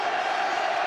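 A football crowd roars after a goal in a Hartlepool United versus Sheffield Wednesday playoff match, a dense, loud, sustained wall of cheering from a large stadium.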